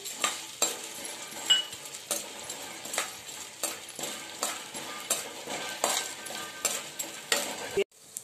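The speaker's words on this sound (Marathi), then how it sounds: "आधी आपण डिंक तळून घेऊया" Edible gum frying in hot ghee in a kadhai, a quiet sizzle broken by repeated sharp scrapes and clinks of a metal spoon stirring against the pan, roughly every half second, close up.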